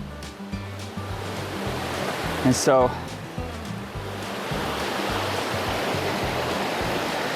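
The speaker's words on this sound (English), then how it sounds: "just past mile 6, you come to Noland Creek and you have to cross here" Noland Creek flowing at a hiking trail crossing, a steady broadband rush of stream water running throughout, with someone speaking briefly over it and a short clatter midway.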